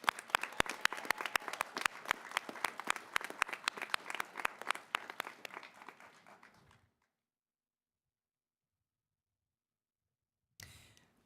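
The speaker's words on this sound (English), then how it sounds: "Let's give another round of applause to all of our graduates." Audience applause for graduates at a college summer commencement, sharp individual claps from a smallish crowd that fade out after several seconds, followed by near silence and a brief noise at the end.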